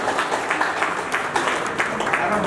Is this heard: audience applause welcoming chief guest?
yes